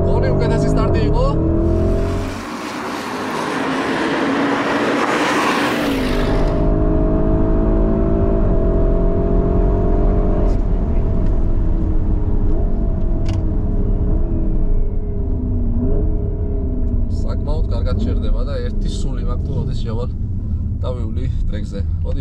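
Full-throttle launch of a Porsche Cayenne Turbo GT on a track: a loud, close engine roar with a brief burst of tire noise at the start, then a long, steadily climbing rumble through the gears as the SUV accelerates hard.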